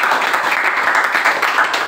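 A church seminar audience bursts into sustained applause, a dense, even wash of many hands clapping together that holds steady throughout.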